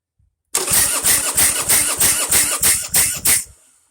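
Motorcycle engine cranking over on the starter during a compression test on the front cylinder with throttle wide open, about eight rhythmic loud compression pulses with a whining starter, then a quick stop.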